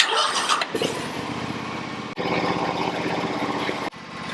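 A John Deere X Series lawn tractor engine cranks and starts, then runs with a steady close mechanical drone, briefly cutting out twice, with no talking.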